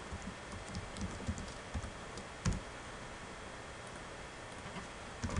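Quiet computer keyboard typing while writing a function in Excel, scattered light key clicks over a steady low background hiss, faint and close with no talk.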